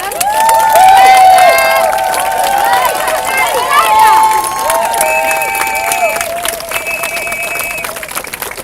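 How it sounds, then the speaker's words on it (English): An outdoor crowd at a Speakers' Corner rally in London cheers loudly, with raised voices and whooping shouts rising and falling over scattered clapping, close and energetic for the whole stretch. "So if we can have a big cheer."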